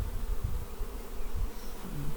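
Honey bees hum steadily around an open hive at an apiary, a close, continuous buzzing swarm with no voices over it.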